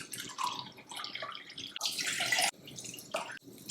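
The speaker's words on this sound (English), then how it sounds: "measure 2 cups of water and add it to the pan" Two cups of water splash and trickle as they are poured into a pan for making chai, the stream rising and breaking off in a few close, bubbling bursts.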